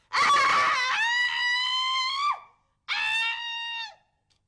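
A woman lets out a long, loud, high-pitched scream to release stress, pauses briefly, then screams again more shortly.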